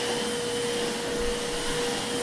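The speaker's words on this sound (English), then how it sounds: "Now, Wanda, the average American vacuums once a week." A vacuum cleaner runs loud and close with an unbroken roaring drone and a thin steady whine, and nothing else is heard over it.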